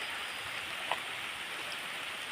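Steady rain falls beside a small, low-running creek, making a dense, even hiss of drops on water and surrounding surfaces at a moderate level, with no voices.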